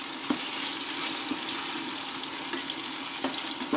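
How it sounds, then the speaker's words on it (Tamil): Onions frying in sesame oil for curry leaf kulambu, a steady close sizzle with faint scattered clicks and stirring, no talking. "ஆமாம், வெங்காயம் வறுத்துருச்சு."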